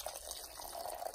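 Hot water is poured gently over herbs for a homemade herbal tea, a soft, quiet, steady trickle and splash of liquid running for about a second.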